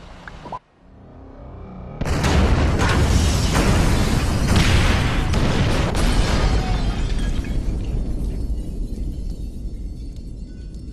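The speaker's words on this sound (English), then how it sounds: "Detonate the incendiaries, Frank." Incendiary charges detonate in Grand Theft Auto 5 during a bureau raid mission, a sudden loud explosion followed by a long, sustained roaring burn and rumble that slowly tapers, with no talking.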